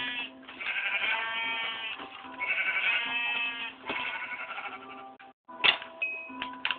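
Minecraft sheep bleating in a video game, a series of loud, close, wavering bleats that follow one another over several seconds, with a brief gap near the end before a final sharp call.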